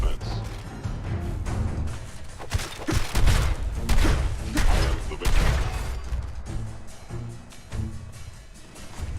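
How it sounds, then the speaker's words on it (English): A nuke grenade detonating in Fallout 4, a heavy blast followed by crashing impacts and rumbling debris, with loud bangs scattered through the scene and a voice speaking over part of it. "So nuke grenades don't have nearly the range I thought."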